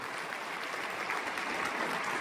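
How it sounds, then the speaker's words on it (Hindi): Audience applause at a company's third-anniversary gathering, a dense, steady wash of clapping that holds evenly at moderate loudness for the whole stretch without pause or talk. "उनके लिए आप एक बार जोरदार ताली बजा सकते हैं"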